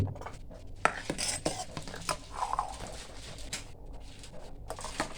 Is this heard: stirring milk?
yes